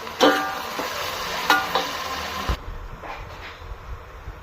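Chopped onions and tomatoes sauté in a hot pan for chicken biryani, a steady close sizzle broken by a few sharp scraping stirs, easing quieter after a brief clank midway.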